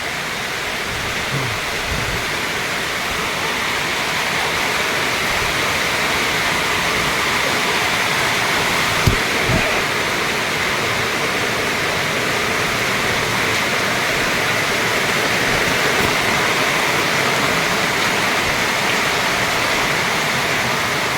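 Steady, heavy rush of rain water pouring and splashing into a fishpond, a continuous broadband roar with no pauses.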